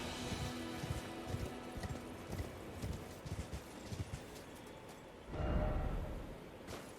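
Horse hooves gallop in the video game Elden Ring, a quick, fairly faint rhythmic clip-clop that swells into a louder rush of movement toward the end.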